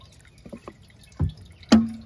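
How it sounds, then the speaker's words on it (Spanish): Fermented coffee strained through a cloth or sieve, a few soft drips landing followed by two heavier splashing pours of liquid, close and fairly quiet. "ahí nada más lo estoy colando y lo voy a diluir en un poco de agua"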